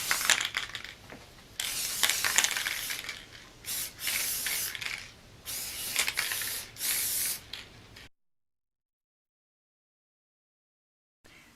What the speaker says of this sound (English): I'm going to use this Krylon satin finish clear coat just to protect the paint job